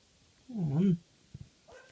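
A dog gives a whining, yelping bark that rises and bends in pitch, followed by a couple of soft, brief sounds and a faint whimper near the end, fairly close in a quiet indoor setting.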